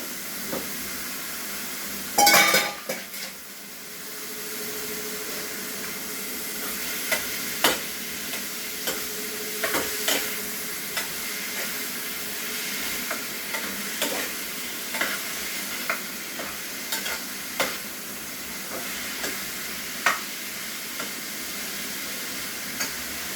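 Prawns frying in a pan, a steady hiss of oil with scattered crackles and spatula taps, fairly loud after a sharp clatter near the start.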